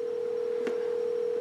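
A Grandstream office telephone gives a steady, unbroken dial tone, loud and close, with a faint click partway through.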